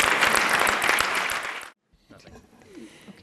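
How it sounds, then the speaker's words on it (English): Audience applause at a hepatitis C diagnostic summit conference, a dense burst of clapping that fills the first half of the clip, then stops abruptly and leaves quiet room noise. "And another round of applause for Anne."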